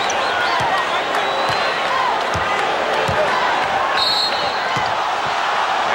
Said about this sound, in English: Crowd responding to the defensive work by the Bulls